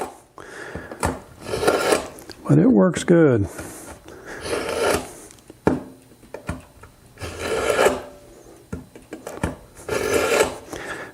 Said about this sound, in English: We're going to take a time out, and I'm going to sharpen my knife.